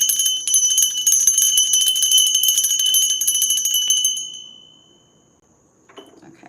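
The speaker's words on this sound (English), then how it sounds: "I'm about to ring the bell." A small handbell rings steadily and brightly close by for about four seconds, with a shimmering metallic tone that fades out, followed by a faint handling clatter. Nobody talks.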